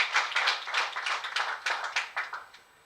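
Scattered hand claps from an audience at a youth agribusiness competition, a short run of crisp, uneven claps nearby that taper off within a few seconds, without any talk.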